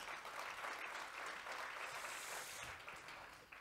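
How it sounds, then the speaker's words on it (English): A crowd claps steadily throughout, a continuous wash of applause that sounds somewhat distant. "Let's give her another round of applause"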